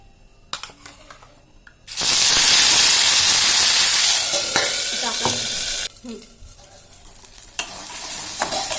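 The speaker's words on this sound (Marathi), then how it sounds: "आता यामध्ये जो मसाला तयार केला होता आपण तो टाकायचा आहे" Masala hits fried paneer in a hot pan and bursts into a loud, steamy sizzle that holds for several seconds before dropping off, with spoon scrapes and clinks as it is stirred, close up.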